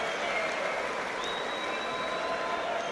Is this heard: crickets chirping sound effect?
no